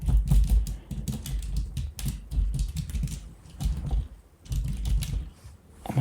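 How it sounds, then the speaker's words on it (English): Keys clatter on a newly built computer keyboard in quick irregular bursts of close, crisp taps, with a few short pauses between runs. "I think that keyboard is working as advertised."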